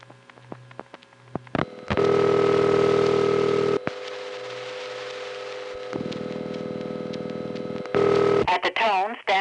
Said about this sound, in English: a typical Bell System city dial tone, which is also on this example from New York